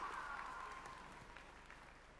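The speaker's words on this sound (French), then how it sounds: "On les applaudit bien fort." A short stretch of audience applause at a Japan Expo cosplay show, steady clapping from a crowd that slowly fades, somewhat distant.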